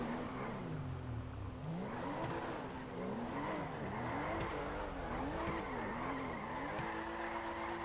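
Car tyres squeal continuously while drifting a rear-wheel-drive car fitted with drift tyres in GTA 5 FiveM, the screech rising and falling in repeated sweeping arcs over a steady engine drone, with no voices.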